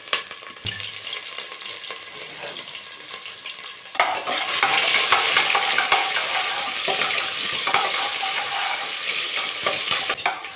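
Onions frying in hot oil with mustard seeds and whole spices, stirred in a pan for an Indian avarekalu veg pulao; a steady close sizzle that turns louder and denser partway through, with scraping stir strokes throughout.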